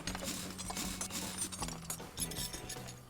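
A car lift raises a car in Car Mechanic Simulator 2018, a low mechanical hum with ratcheting clicks and gear-like clanks pulsing in an uneven rhythm, fairly quiet and with no voices.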